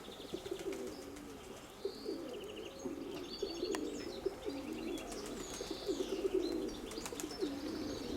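Pigeons coo softly and repeatedly outdoors in hot weather, low rolling calls running throughout, with a few small bird chirps above them and no voices.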